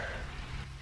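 Rain falling in the survival game Cataclysm: Dark Days Ahead, a steady, soft, even hiss with a low rumble underneath that holds through the whole short stretch and is heard alone.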